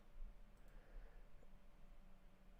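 A computer mouse clicks faintly, a couple of brief, quiet taps over a low steady background hum.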